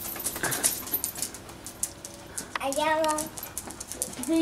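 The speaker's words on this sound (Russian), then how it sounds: "Алиса, собака больше тебя." A dog whimpers and whines in rising, wavering tones over outdoor background noise, with people speaking nearby.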